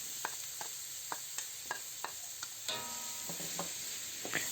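Sliced chayote fries with tomatoes in a pan, a soft steady sizzle broken by sharp, regular taps and scrapes of a utensil stirring, with no talking.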